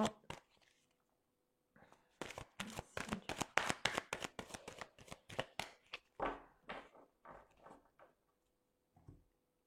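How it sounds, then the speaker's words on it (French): Tarot cards being shuffled in bursts of rapid riffling and flicking, a dense close run in the middle with softer taps before and after, and a faint voice near the end. "on va tirer 5 cartes déjà avec le tarot"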